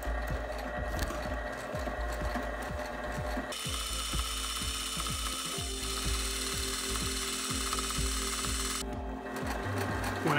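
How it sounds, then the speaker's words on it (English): A sewing machine runs forward then reverse stitches on van or RV cushions, a steady close rhythmic clatter of needle strokes that shifts tone partway through as direction changes, with mechanical ticking throughout. "I'm gonna do a couple of forward stitches and then some reverse stitches"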